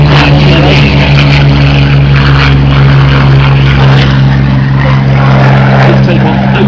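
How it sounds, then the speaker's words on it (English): A Hawker Hurricane propeller fighter takes off at an air show, its piston engine and airscrew giving a loud, continuous, rough drone that holds steady throughout. "This take-off opening our salute to the Air Transport Auxiliary."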